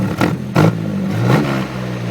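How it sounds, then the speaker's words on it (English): Exhaust on a Nissan D21 truck rigged as a flamethrower fires after a kill switch flip, three sharp popping bursts over a low idling engine rumble, close and loud. "every time you flip your kill switch, it's gonna fucking fire out that exhaust like that"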